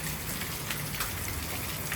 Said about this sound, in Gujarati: જો પણ વરસાદ કેવો પડે